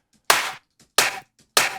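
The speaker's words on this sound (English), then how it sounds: "So for the clap, we got 3 different clap samples." Three crisp, layered clap samples from an Ableton electronic drum track, each a sharp bright hit with a short tail, evenly spaced and alone.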